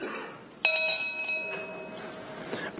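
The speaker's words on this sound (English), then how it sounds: "you do a quick bell after each one" One short bell stroke at a labour council's Day of Mourning ceremony rings out with a bright metallic attack and a long, steady decaying tone over faint background room noise.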